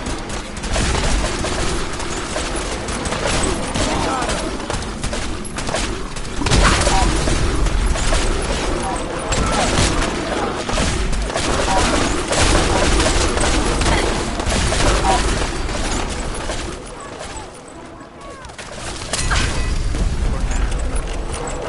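Sustained gunfire rattles through a battle against gulpers in Fallout 4, with dense overlapping shots and booming impacts that barely let up, a brief lull near the end before the shooting swells again; voices shout intermittently beneath the din.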